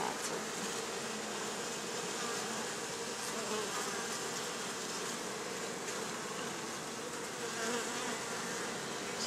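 Bees swarm at a wild hive, giving a dense, steady buzzing hum that fills the whole stretch, close and fairly even in loudness with no voices.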